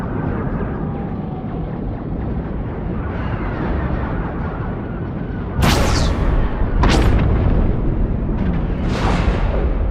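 Ion cannon blasts and heavy explosions in the Star Wars: The Old Republic video game, a loud rumbling barrage punctuated by several sharp booming hits toward the end.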